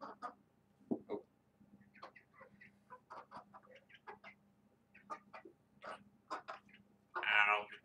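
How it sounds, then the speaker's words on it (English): Baby chicks about three months old cluck and cheep in short, scattered bursts close by, quiet overall, ending in a louder squawk. "here are the chickens, or the baby chicks"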